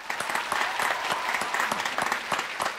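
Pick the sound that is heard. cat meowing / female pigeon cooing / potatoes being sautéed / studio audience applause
studio audience applause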